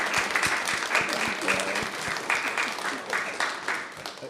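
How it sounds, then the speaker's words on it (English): A room full of people applauding steadily after a talk, a dense patter of claps that holds for several seconds without letting up. "I think it would be appropriate to clap."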